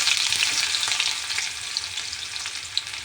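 A small onion fries in hot oil with tempered cumin and mustard seeds, a close, continuous hissing sizzle with faint stirring, heard alone.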